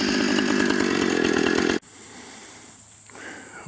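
A chainsaw with a brand-new blade roars loudly and steadily while cutting down big hickory trees, then cuts off abruptly partway through, leaving quiet outdoor ambience.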